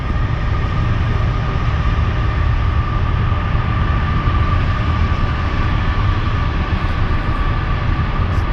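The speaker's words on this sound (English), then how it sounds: "there's a train going by" A train passes near woods with a loud, steady broadband rumble and roar that holds constant throughout, with no talk over it.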